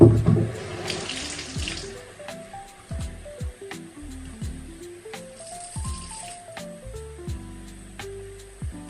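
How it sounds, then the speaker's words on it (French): A tomato rinsed under a running kitchen tap: steady water splashing into a sink, with shifting gurgling tones as the tomato is moved through the stream, close and continuous. "Donc je suis en train de rincer ma tomate et puis je vais rincer mon oignon aussi."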